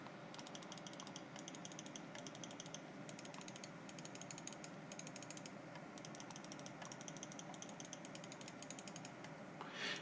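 Main buttons of a Tt eSPORTS Theron Infrared gaming mouse, with Omron switches, being clicked repeatedly in a steady run of light, quick ticks over a quiet background, with no talking.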